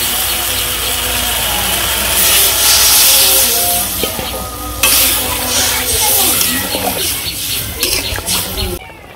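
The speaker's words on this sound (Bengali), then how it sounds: "জল দিয়ে দিই" Water poured into a pan of sizzling vegetables for a village-style fish curry with drumsticks, a loud hiss and bubbling sizzle up close, with stirring and clinks of utensils.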